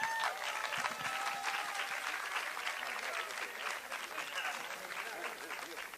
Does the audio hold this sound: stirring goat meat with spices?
no